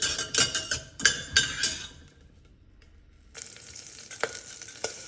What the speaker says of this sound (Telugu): జస్ట్ ఊరికే అలా నూనెలో కొంచెం అలా ఫ్రై చేసుకోవడమే.